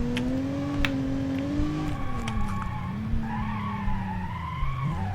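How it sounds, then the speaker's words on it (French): A car in the BeamNG Drive video game skids through a handbrake U-turn, tires squealing in sliding, wavering tones over a revving engine for several seconds. "Un petit coup de frein à main pour un petit demi-tour."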